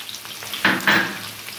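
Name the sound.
pumpkin and potato frying in a pan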